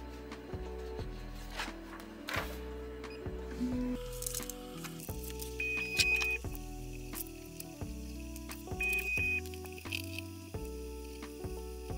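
An Elegoo Neptune 4 Max 3D printer runs its automatic bed-leveling routine, its stepper motors whirring in short, repeated pitched steps with brief pauses, quiet and steady throughout.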